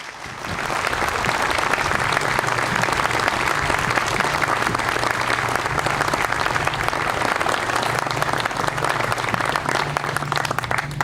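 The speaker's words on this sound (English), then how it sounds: "leave them with a rousing round of applause" A Memorial Day parade crowd in Elmhurst gives a rousing round of applause, sustained and even throughout, with a low steady hum beneath the dense clapping.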